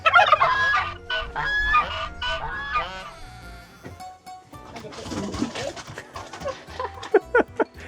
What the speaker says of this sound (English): I can already hear her animals clucking in the front yard.